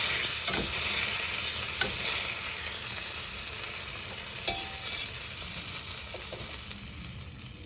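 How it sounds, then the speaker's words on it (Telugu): A spiced tempering for dal sizzles in a small pan while it is stirred, with a continuous hissing fry broken by a few light clinks of the spoon against metal. "ఈ పోపు మనం అందులో యాడ్ చేసేద్దాం."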